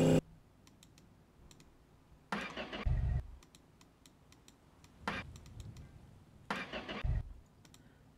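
Car engine cranking without catching, three separate bursts of starter whirring, each a second or so long and separated by quiet pauses and faint clicks.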